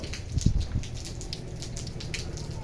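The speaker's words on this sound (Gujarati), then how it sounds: "હવારનો વરસાદ ધીમે ધીણો ચાલુ થઈ ગયો" Light morning rain falls in a steady, faint patter, with a few soft low thumps near the start and no voices.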